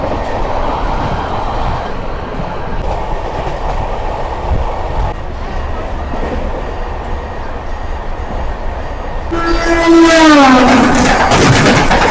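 Passenger train on the new Howrah to Digha route rumbling steadily along the rails, close and continuous, then a louder stretch near the end with a rising, whining tone.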